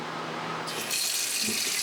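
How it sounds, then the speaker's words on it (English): A kitchen tap starts running partway through into a sink while dishes are rinsed, a quiet murmur giving way to a steady, bright hiss of flowing water that continues to the end. "When you rinse it, sometimes it splashes."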